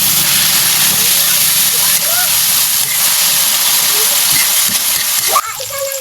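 Chicken being stir-fried in a pan gives a steady, loud broadband sizzle that runs unbroken for several seconds, with faint scraping near the end.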